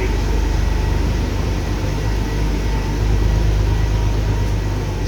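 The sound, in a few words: Porsche 911 5-speed engine running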